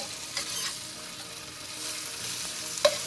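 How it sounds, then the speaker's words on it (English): Firm tofu frying in a pan for pad thai gives a steady, fairly quiet sizzle, with occasional light utensil scrapes and a sharp clack near the end. No voices are heard. "we're just going to stir fry this until it's nice and golden"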